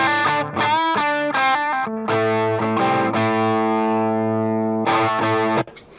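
An electric guitar played through a Dumble-style overdrive pedal, sustained driven chords and single notes with a rich harmonic, moderately distorted tone, ringing close and loud with brief gaps between phrases.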